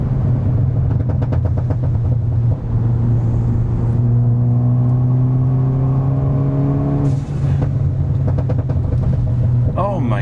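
A Ford Focus ST with TB Performance chassis mods accelerates hard from inside the cabin, engine pitch climbing through the gears in rising sweeps with a brief shift break, loud and close throughout.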